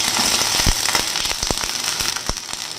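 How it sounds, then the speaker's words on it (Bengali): Chopped garlic, onion, capsicum and yellow bell pepper fry in hot oil for baby corn Manchurian, giving a steady loud sizzle with scattered sharp crackles and pops close to the pan. "তেলটা আমার গরম হয়ে গেছে। এই যে রসুন দিয়ে দিলাম, কুচানো রসুন, কুচানো পেঁয়াজ"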